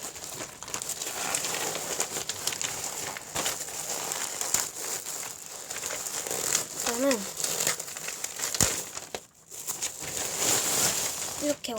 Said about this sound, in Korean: 일단은 뜯어볼게요.